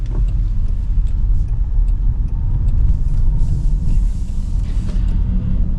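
A car's engine driving and pulling away, a steady, loud, low rumble heard from inside the cabin with road noise throughout, no voices.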